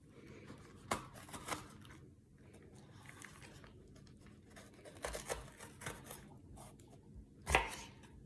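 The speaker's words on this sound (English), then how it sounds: "now I'm gonna cut in half and seed this jalapeno" A knife cuts a jalapeno in half and scrapes out the seeds on a board, giving a few faint, scattered close cuts and scrapes, with a sharper slice near the end amid quiet.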